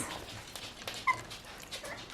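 Three young puppies give soft, high whimpers and a brief thin squeak, close but faint, against quiet indoor background noise.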